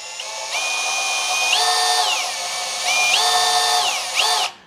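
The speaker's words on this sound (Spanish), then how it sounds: "Lo vamos a probar aquí también, taladrando en el metal, a ver qué tal trabaja." A cordless 18V Makita replica drill without hammer action bores a 4 mm bit into metal, up close and loud. Its high whining motor dips in pitch as the bit bites, then recovers across two drilling bursts before it stops abruptly.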